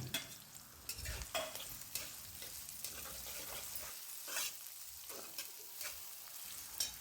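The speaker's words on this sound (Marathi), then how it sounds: "त्यानंतर कढईमध्ये तेल घालून कांदा परतून घेतला." Onion sautéing in oil in a kadai, with a soft crackling sizzle broken by intermittent scraping stirs, fairly faint and close, with no voices.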